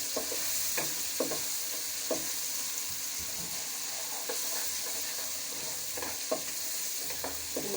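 Whole cumin seeds and crushed dried coriander fry in hot oil in a pan for Lahori chana, a soft steady sizzle running throughout with occasional spoon scrapes and taps.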